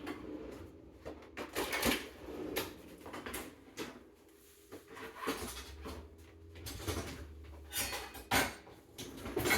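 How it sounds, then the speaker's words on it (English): A small cutting board pulled out in a home kitchen while making lunch, giving a series of hard knocks, clacks and clattering bumps at close range, with quieter rustling between them. "I'm gonna grab a cutting board."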